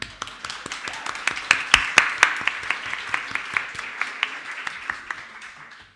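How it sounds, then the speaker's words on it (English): A conference audience gives a steady round of applause, a loose run of claps that peaks early and then thins out and fades toward the end, heard fairly close without talk. "can he hear us if we give him a round of applause?"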